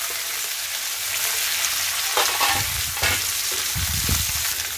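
Cashews, green chillies, garlic cloves and ginger fry in hot oil for a dhaba-style dum aloo, a steady close sizzle broken by a few louder scraping stirs of the pan.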